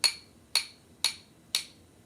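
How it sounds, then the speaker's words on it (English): Hammer tapping a nail into a wall: four evenly spaced sharp metallic taps about half a second apart, each ringing briefly and decaying into quiet. "you use the hammer to put the nail into the wall"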